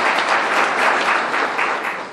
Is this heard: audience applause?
yes